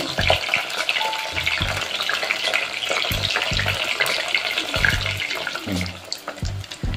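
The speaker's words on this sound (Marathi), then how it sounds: "चांगले सोनेरी कलर येईपर्यंत तळून घेऊ आपण" Paneer pieces frying in oil until golden, giving a steady sizzle with scraping stirring noises and low knocks throughout.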